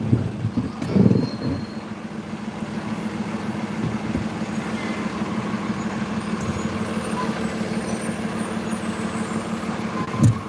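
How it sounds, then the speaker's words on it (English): Steady city road traffic idles in a jam, heard from inside a vehicle as a continuous low engine drone and rumble with faint distant clanks and a brief swell near the start, without speech. "This is some traffic right here."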